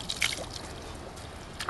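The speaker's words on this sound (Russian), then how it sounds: "вот течет вода. Вот обычная вода из-под земли" Spring water flowing out of the ground in South Ossetia: a faint, steady trickle and dribble with small splashy accents, close by and without talk.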